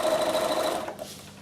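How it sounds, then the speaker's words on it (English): A sewing machine stitching fabric, a fast close whirring hum for under a second before it slows and stops, leaving quiet room tone. "on a sewing machine, you can get it around that arm nicely"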